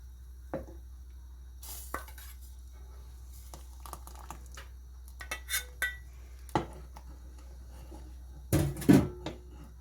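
Mint-infused browned butter poured into a pot of tarhana soup, heard as scattered utensil clinks and scrapes against cookware, with a brief burst of splashing sizzle near the end, no talking.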